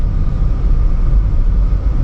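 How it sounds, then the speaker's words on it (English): Land Rover Defender V8 with an upgraded exhaust driving uphill at about 40 mph, heard from inside as a steady low rumble mixed with road and tyre noise, loud and continuous, with no talking. "So as you can hear, we're now going uphill 40 miles an hour."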